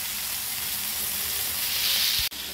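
Prawn-stuffed bombil rolls shallow-fry in a pan of oil with a continuous close sizzle that swells slightly near the end. A brief sharp click cuts through just before it closes.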